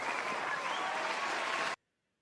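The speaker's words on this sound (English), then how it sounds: "Hold on, let me get your applause." A canned applause sound effect on a boxing talk show: dense, even clapping that plays loudly for under two seconds, then cuts off abruptly into silence.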